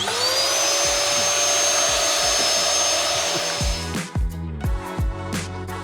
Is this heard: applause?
no